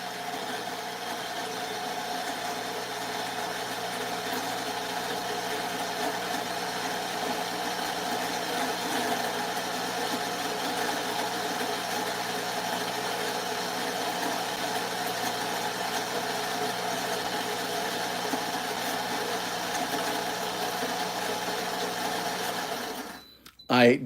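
A Shardor 64mm flat burr coffee grinder fitted with aftermarket burrs grinds beans in a steady, even motor whine with a slightly slow, droning pitch, running continuously for over twenty seconds before cutting off with a brief clatter.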